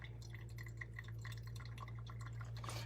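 Brew water poured in a thin, steady stream over coarse coffee grounds during a pour-over, making faint, continuous trickling and dripping close by with no talk.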